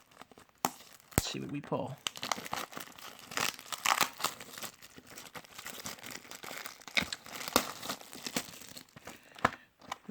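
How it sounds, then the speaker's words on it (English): A Yu-Gi-Oh Toon Chaos booster pack torn open, with crinkling foil wrapper rustles and tearing bursts that continue through the clip, close and fairly loud under someone talking. "let's crack it open"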